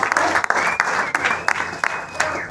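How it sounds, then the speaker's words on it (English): Applause for boxer Anthony Joshua fills a post-fight press conference room, with dense, crackling clapping from a crowd carrying on steadily throughout. "I think we should have a little round of applause for the two-time world heavyweight champion, Anthony Joshua."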